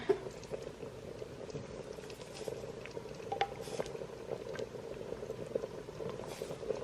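Pinto beans with Creole and Cajun seasoning bubbling at a rolling boil in an Instant Pot, a continuous soft close burble with small pops and faint splashes, no voices.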